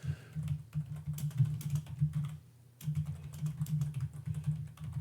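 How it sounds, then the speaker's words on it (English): Someone types a message on a computer keyboard, a quick, close run of soft key clicks with a brief pause midway before the tapping resumes, with no talk. "so I'm typing a message in"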